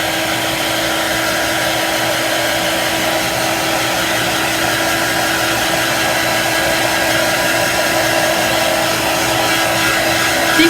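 A dryer blows a constant loud, close whoosh over a smudged lettering design, running unbroken throughout without talk.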